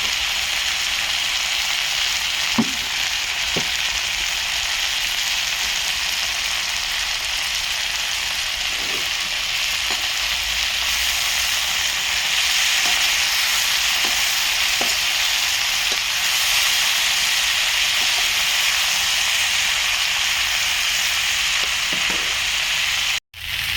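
Broad beans fry in hot oil with turmeric and chili powder, giving a steady, loud sizzle throughout with occasional faint stirring clicks, then a sudden stop at the very end.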